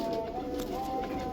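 Pigeons in a loft of Indian Lakhy breed birds, soft continuous cooing and low murmuring throughout, close and steady with faint rustling, no talk.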